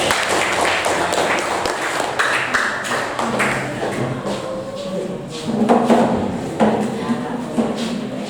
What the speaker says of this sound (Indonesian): Berikan tepuk tangan untuk semuanya.